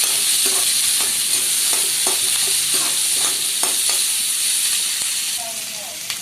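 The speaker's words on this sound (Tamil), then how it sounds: "இந்த வெங்காயம் கொஞ்சம் இந்த ஒரு பிங்க் கலர் வரும்ல, அந்த பிங்க் கலர் வர வரைக்கும் வதக்குங்க" Onions sautéing in a pan for a paneer butter masala gravy, with a loud continuous sizzle and repeated spatula scrapes and taps that ease off toward the end.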